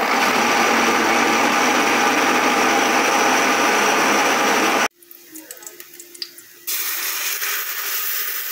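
A kitchen blender whirs at high speed blending cooked beans, a loud steady motor whine that cuts off abruptly near the five-second mark, followed by quieter kitchen sounds and then a different steady hiss.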